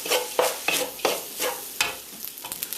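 Cold cooked rice fries in a hot wok as a utensil scrapes through it in repeated strokes about every half second, each stroke a sharp scrape over a steady sizzle.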